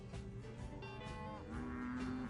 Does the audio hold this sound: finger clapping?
no